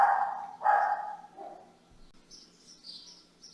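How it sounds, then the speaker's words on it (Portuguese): Two quick barks from a small pet dog sound close up at the start, then fade. Faint bird chirps follow in a quiet room. "Às vezes a gente escuta uns barulhinhos, tá, gente? Que é a nossa cachorrinha."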